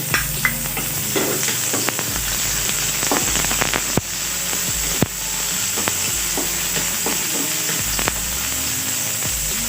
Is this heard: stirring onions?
yes